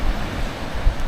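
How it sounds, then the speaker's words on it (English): Ocean waves crash in along the coastline at Porth Ysgo Beach, a steady rushing surf roar with some wind buffeting the microphone, continuous and close. "looking along the coastline, all the waves crashing in"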